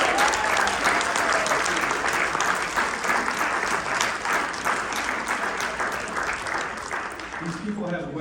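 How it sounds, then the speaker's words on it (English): A large staff audience at an opening workshop session bursts into loud, sustained applause, dense clapping filling the room steadily before tapering off at the end, with a voice briefly audible as it fades. "Let's give them a big round of applause."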